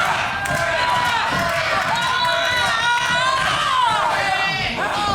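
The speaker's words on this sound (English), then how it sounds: "And you can hear the crowd. They're feeling it." Wrestling crowd at an NWA event roars and shouts continuously, a dense wash of cheering voices with whistles and yells, loud and close throughout.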